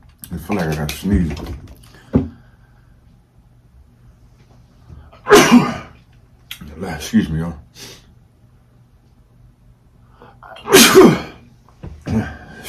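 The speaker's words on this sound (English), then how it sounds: "I feel like I got to sneeze." A single sharp human sneeze bursts out mid-meal, loud and close, followed by a second one seconds later, with someone talking quietly in between.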